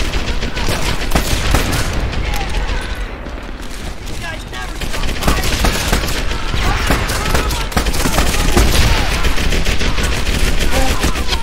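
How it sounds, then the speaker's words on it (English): Assault rifle fire crackles in Medal of Honor: Airborne, with dense, rapid overlapping bursts that continue without a break, loud and close, under shouting and a chaotic battlefield din. "These guys got assault rifles!"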